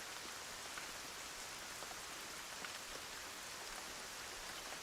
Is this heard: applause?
no